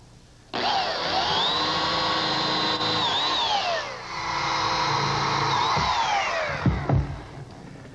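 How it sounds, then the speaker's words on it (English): A power drill pre-drills screw holes in wood for a glued subassembly in a woodworking shop, whining steadily for several seconds at close range, dipping briefly mid-run, then winding down with a few knocks. "Now pre-drill for some screws."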